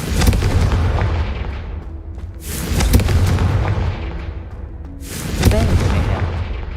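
Fiery Confringo spell blasts in Hogwarts Legacy, two loud, booming explosions a few seconds apart, each a sharp burst decaying into a rumbling roar over dense combat noise.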